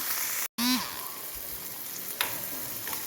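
Onions frying in a pan for an okra stew, a steady hissing sizzle with a brief utensil scrape as they are stirred, close and continuous with a sharp cut near the start.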